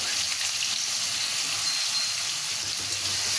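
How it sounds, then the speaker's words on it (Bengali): Cut potatoes fry in hot oil tempered with cumin seeds and bay leaf, giving a continuous, close, even sizzle with a soft crackle and no talking. "এরপর আগে থেকে কেটে রাখা আলুগুলো এর মধ্যে দিয়ে দেবো"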